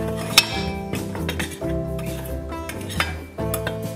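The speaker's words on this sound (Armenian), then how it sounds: "կակաո և շաքարավազը լավ կխառնեմ" A spoon stirs cocoa powder and sugar together in a bowl, giving a run of close metallic clinks and scrapes against the dish, with one sharp clink near the start.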